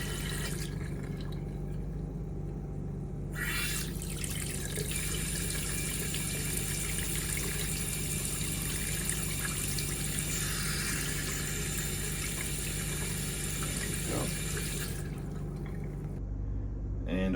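Water runs steadily from a sink faucet, hot then cold, as RV plumbing lines are flushed during winterization, a continuous broadband rush with a low hum beneath, no talking.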